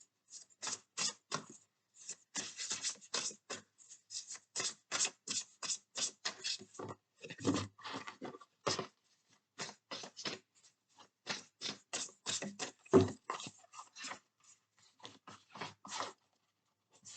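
Tarot cards handled and laid over on a table, quiet close-up papery taps, slides and shuffling rustles in irregular bursts, alone with no talk.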